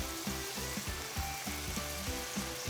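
Spices and salt being stirred into a leek stew, a steady sizzling simmer with faint rhythmic scraping strokes repeating throughout, close and continuous with no voices.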